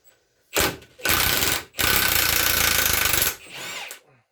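An impact wrench breaks loose the jam nut on a hydraulic cylinder from a Case Ingersoll loader, sounding as three loud hammering bursts, a short one, a longer one and then a sustained rattle of about one and a half seconds, followed by a softer tail.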